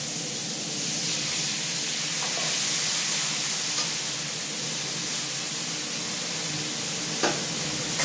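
Water poured into a hot pan of crushed ginger sets off a steady, loud hissing sizzle that lasts throughout, with a few faint clinks near the end and no talking.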